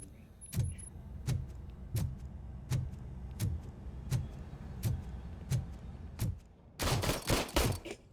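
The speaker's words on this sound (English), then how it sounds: "Oh, he's going to shoot me." Gunfire in the video game Robocop: Rogue City, a regular series of single loud shots about a second apart, ending in a rapid close burst of several shots.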